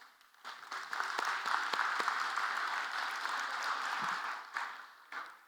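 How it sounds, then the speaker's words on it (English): An audience at the Caltrans DBE Summit gives a round of applause that swells quickly, holds as a steady wash of many hands, then thins out to a few last claps, sounding fairly soft and distant. "You all deserve a round of applause for that."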